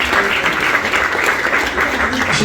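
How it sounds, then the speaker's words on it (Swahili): Church congregation at a morning revival service applauding together, a dense steady wash of many hands clapping at close range, with a voice faintly mixed under the clapping. "tupige Mungu makofi."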